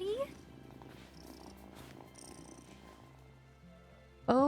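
A cat in the video game Wylde Flowers purrs in a soft, steady low rumble, then a brief louder meow-like call cuts in at the end.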